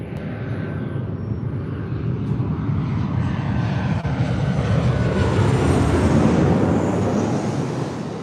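American Airlines Boeing 737-800 arriving at LAX, a broad roaring jet engine rumble that builds slightly louder and brighter as the plane passes near, continuous and without speech.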